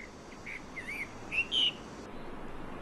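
A caged bird gives a few short, clear whistled chirps, isolated and fairly close, with quiet gaps between them against a faint hissy background.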